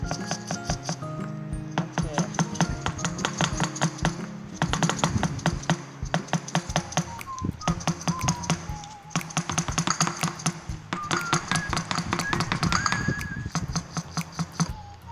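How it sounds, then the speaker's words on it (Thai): Containers of oyster mushroom spawn grown on sorghum grain are tapped repeatedly to break the grains apart, giving a long run of sharp, close knocks in irregular bursts, with faint background tones throughout. "ถ้าเคาะเสร็จแล้วจะมีเม็ดข้าวฟ่างนะคะ มันจะแตกตัว"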